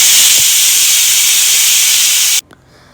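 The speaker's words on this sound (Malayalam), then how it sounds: "വെളിച്ചെണ്ണ ഒഴിച്ചിട്ട് വറുത്തെടുക്കുക" Frying in hot coconut oil gives a loud, dense, steady sizzling hiss close up that stops abruptly near the end, leaving near quiet with a faint clatter.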